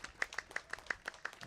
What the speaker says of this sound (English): And the applause rings out around the arena here.